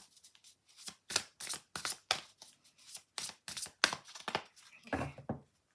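A deck of cards being shuffled up close, a run of crisp riffling bursts in quick succession with short pauses between, and no talking.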